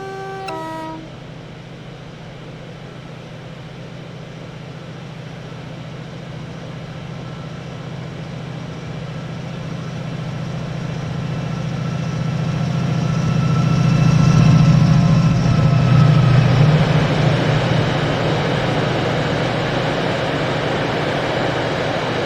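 Simulated Class 68 locomotive 68008 hauls autoballaster wagons at Gothland with a steady low engine drone that slowly swells louder toward the middle before easing slightly, with no voices.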